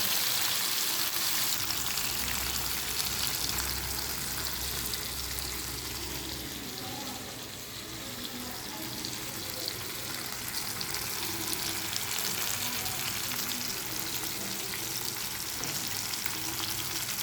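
Andhra-style fish fries in hot oil with a steady, dense sizzle and crackle that stays loud and close throughout, with faint stirring underneath and no talking.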